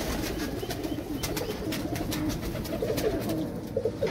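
Royal Teddy pigeons cooing in a loft, a dense, continuous bed of low rolling coos from several birds, moderately loud and close, with a few brighter calls near the end.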